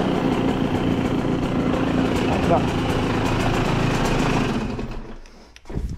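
A KTM supermoto motorcycle engine runs steadily at a buzzy, idling pitch, then drops away and sputters near the end; a voice says a word briefly.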